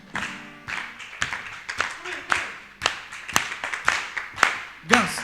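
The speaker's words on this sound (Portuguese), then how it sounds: "Palmas." Hands clapping at a worship song gathering, sharp individual claps in an uneven rhythmic pattern, close and fairly loud, with brief singing or voice fragments between them.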